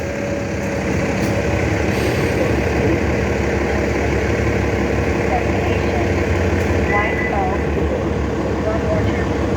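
A Metro transit bus engine idles at close range in Prince George's County, a steady low rumble filling the whole stretch with a faint higher whine on top, while a voice talks over it.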